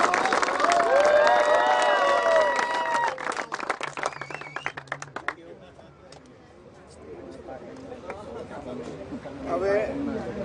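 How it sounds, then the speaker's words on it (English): Crowd at a cricket tournament final, the Banas Cup 2022 match between Dhanera and Dhandhar, breaks into scattered clapping and cheering under loud voices, then settles into a murmur of chatter. "So huge round of applause to"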